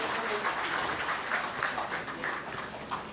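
Steady, dense applause from an audience at a government solar self-employment scheme event, greeting Uttarakhand Chief Minister Pushkar Singh Dhami, sustained and fairly even throughout.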